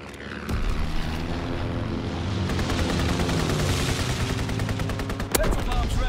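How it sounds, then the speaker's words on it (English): An enemy recon aircraft droning overhead in a war video game, a steady propeller roar under bursts of rapid machine-gun fire and a sharp shot near the end, loud and continuous. "Enemy recon aircraft observed!"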